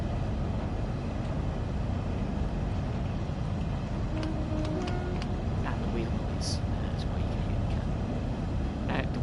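Wheel noise in a Class 395 high-speed train cab in Train Sim World 2, a constant heavy rolling rumble with scattered clicks and a brief squeal partway through, steady and loud.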